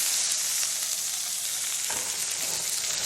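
Butter and crushed garlic sizzle hard in a pan beside searing salmon, making a loud, dense, continuous frying hiss heard up close without speech.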